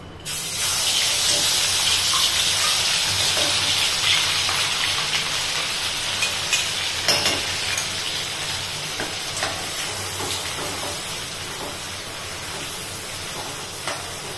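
Masala paste fries in hot oil for a spicy Marathwada-style mixed dal, a loud continuous sizzle with scraping spoon strokes as it is stirred, close up and steady throughout.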